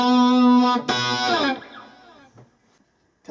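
A blues lick on distorted electric guitar: a sustained bent note, a sharp second attack, then a descending slide that fades out, played alone.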